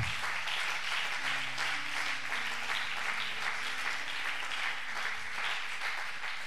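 Congregation at a church service breaking into sustained applause and acclamations, a dense steady wash of clapping with faint shouts running evenly for several seconds at moderate distance.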